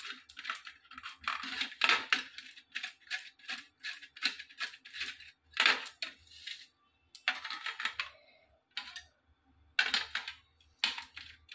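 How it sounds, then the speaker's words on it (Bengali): A cauliflower is scraped on a hand grater, giving rapid, close, crisp rasping strokes in uneven bursts with short gaps, and no voice is heard. "আমি ফুলকপিটা চাঁচনিটা দিয়ে ভালো করে চেঁচে নেব।"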